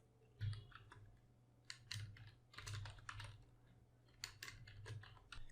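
Computer keyboard typing a file name, bursts of quick key clicks in short runs with brief pauses, close and fairly quiet, with a faint hum underneath.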